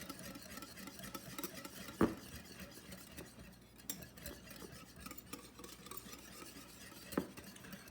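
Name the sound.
whisking the dipping mixture for pork chop breading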